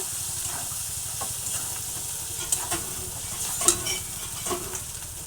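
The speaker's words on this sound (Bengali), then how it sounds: "আবার নেড়ে চেড়ে দিচ্ছি।" Goat meat sizzles steadily in a pan while a utensil stirs it, sending up soft scraping strokes and a few sharp clinks of metal against the pan over continuous frying hiss. No one speaks.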